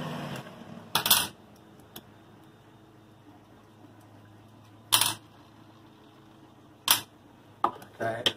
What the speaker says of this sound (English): Oh, let me take the screws out.